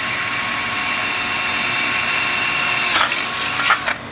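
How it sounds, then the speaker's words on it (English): A 1/4-inch power drill boring through a fitting hole in a hang block conversion runs as a steady, loud whine for about four seconds, with a brief surge near the end before the motor spins down. "we're going to come back with our 1/4-inch drill"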